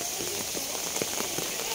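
Rain falls steadily during an outdoor fishing outing, producing a continuous, dense hiss with faint scattered patters of drops on a surface.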